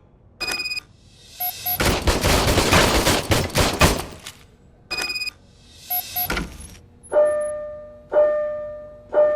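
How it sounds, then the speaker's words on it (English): An old police service pistol fires in RoboCop: Rogue City, a dense burst of loud rapid shots followed by scattered single cracks, with bright ringing mechanical tones and electronic beeps in between. "I was issued this old gun and serviced it according to the manual. I will try it out."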